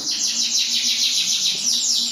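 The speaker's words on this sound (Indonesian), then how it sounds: "di depan kita ini adalah jenis kenari" A young AF canary sings nearby in quick repeated trilling chirps, bright and continuous over a faint background hum.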